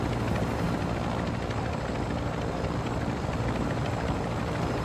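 A helicopter in a video game drones loudly and continuously, its dense rotor and engine roar steady and close for the whole stretch, with no talking.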